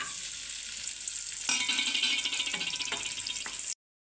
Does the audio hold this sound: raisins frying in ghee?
yes